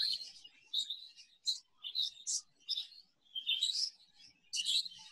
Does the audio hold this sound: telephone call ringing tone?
no